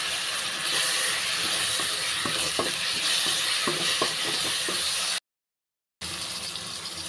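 Chopped tomatoes frying with onion, garlic and curry leaves, a loud, dense, continuous sizzle with stirring scrapes and taps running through it, cut off by a short silence before resuming.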